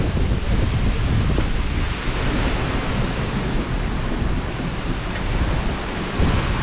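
Skogafoss waterfall in Iceland roars as a loud, continuous rush of falling water heard from close by, steady and unbroken with no talking.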